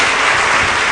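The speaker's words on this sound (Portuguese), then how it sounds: "Dê uma salva de palmas ao Senhor" A church congregation clapping, a loud, dense wash of applause filling the room steadily for a short moment.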